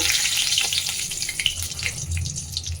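A single bay leaf dropped into hot oil in a kadai, ready for a Bengali katla and tangra fish curry, gives a steady close sizzle with crackling bursts and a faint watery hiss throughout, no voices.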